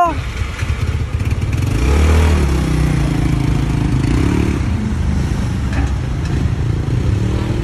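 A Yamaha Mio Sporty motor scooter engine runs steadily nearby with a low mid-pitched idle and a faint clatter, while voices talk over it throughout.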